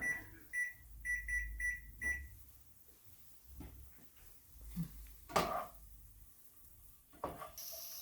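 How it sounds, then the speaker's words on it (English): Kitchen timer beeping during stovetop cooking of lentils for mujaddara, a short run of repeated electronic beeps in a quick rhythm, fairly clear, followed by quieter kitchen clatter. "Set a timer."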